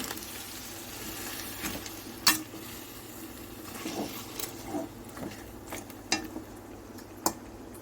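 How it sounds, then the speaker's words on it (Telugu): Boiled country chicken meat frying in oil in a pan, a steady soft sizzle with occasional sharp clicks and scrapes of stirring, faint and close with no talking. "మాంసాన్ని అయితే నేను వేస్తానండి కొంచెంసేపు ఆయిల్లో వేగనిద్దాం"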